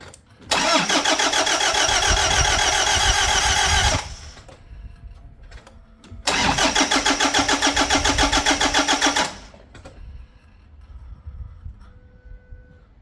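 A diesel engine, just fitted with a new fuel filter, cranks in two long, loud starter bursts of about three seconds each with a pause between, then falls quiet apart from faint clicks.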